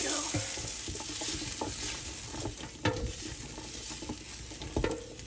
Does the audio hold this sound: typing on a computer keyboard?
no